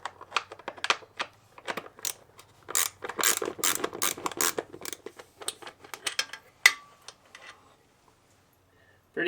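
A hand ratchet clicks in quick irregular bursts, close and crisp, as it backs out 10mm seat bolts on a Yamaha TW200 motorcycle, then falls quiet near the end.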